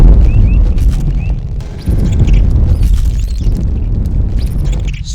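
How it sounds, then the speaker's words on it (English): A nuclear bomb explodes in a Minecraft PE giants addon, giving a loud, continuous rumbling boom with a fresh burst about two seconds in, heavy low roar throughout and no talking. "Then there's a nuclear bomb of some kind."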